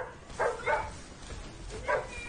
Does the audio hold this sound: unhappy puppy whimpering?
yes